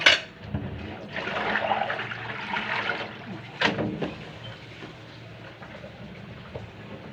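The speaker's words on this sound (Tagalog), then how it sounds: "Maghuhugas ako." Running water splashes steadily during washing, with a strong gush at the start that eases into a softer, continuous pour with occasional splashes, close and clear with no talking.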